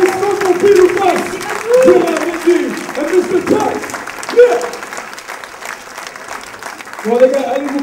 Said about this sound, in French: Et tout le monde applaudissement pour Pile ou Face.